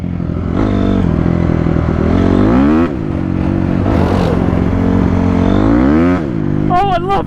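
A Honda CRF250R dirt bike engine revs hard during a ride, rising and falling in repeated loud surges with clattering and scraping between throttle bursts.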